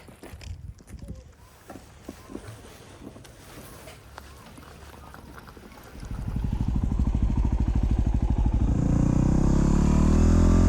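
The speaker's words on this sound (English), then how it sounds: "Who would have thought we'd be riding our dirt bike at the Grand Canyon?" A dirt bike at the Grand Canyon starts up and revs, its engine rising into a loud, steady buzzing drone in the second half after quieter scattered noises and some talk.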